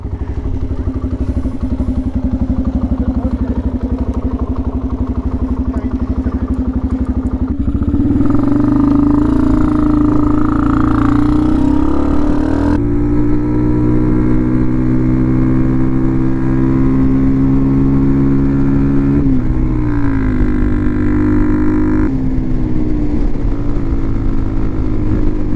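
A motorcycle engine idles and then revs as it is ridden, a continuous loud throb with rising pitch shifts in several steps, close to the listener throughout with no talk.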